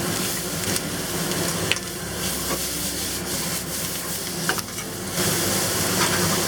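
Beef and bitter melon stir-fry in a hot wok, a loud continuous sizzle and hiss with scraping stirs and occasional spatula clacks against the pan, intensifying toward the end.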